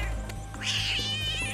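A cartoon cat gives one drawn-out meow that rises and wavers, heard clearly over a low background hum.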